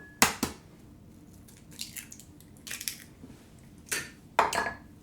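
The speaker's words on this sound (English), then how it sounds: "cracking my eggs in a separate container before adding it into the bowl" Eggs cracked one after another into a separate container for gluten-free orange and chocolate biscotti, several sharp close taps and cracks followed by soft wet shell-breaking sounds, heard alone in a quiet kitchen.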